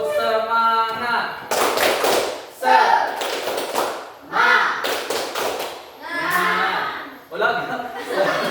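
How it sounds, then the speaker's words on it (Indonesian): Schoolchildren repeat the tepuk semangat clap chant, with crisp clusters of hand claps punctuating their shouted chant. Childish chuckles and a teacher's voice mix in, all close and energetic. "Tepuk semangat."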